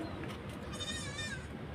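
A goat bleats in a wavering, drawn-out cry, close and fairly loud, over a low background rumble.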